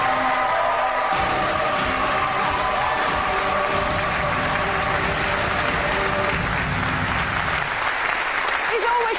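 A live studio audience at a Portsmouth ghost-hunting broadcast breaks into sustained, loud applause that holds steady throughout, with a faint vocal tone running beneath the clapping.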